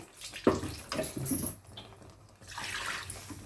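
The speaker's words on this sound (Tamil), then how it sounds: "இப்போ வந்து அதுக்கு தேவையான அளவு தண்ணி ஊற்றிக்கலாம்" Water poured into a pan of chicken gravy made with ground coconut, a short splashing pour with clinks and stirring, close and moderately loud.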